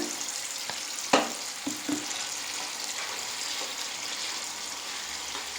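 Pickle tempering fries in hot oil in a pan, giving a steady close sizzling hiss throughout with a few small pops and clinks partway through.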